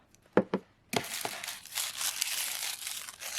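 Paper shipping packaging from a box being handled, starting with a few sharp crinkles, then a sustained papery rustle and crumpling that goes on to the end.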